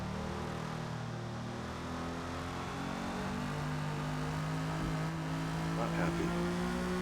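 A 1956 Jaguar D-Type races around Yas Marina in Forza Motorsport, its engine holding a steady, layered drone with gently shifting pitch throughout, while a voice talks over it.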